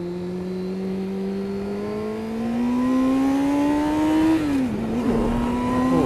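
A motorcycle engine pulls along a road at speed, its droning pitch climbing steadily as it accelerates, close and loud with wind rush, then shifting gear and rising again.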